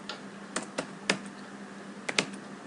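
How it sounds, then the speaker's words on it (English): Keys clicking on a computer keyboard as a command is typed, about seven sharp, close taps in an irregular rhythm over a quiet background. "you have to type the command show"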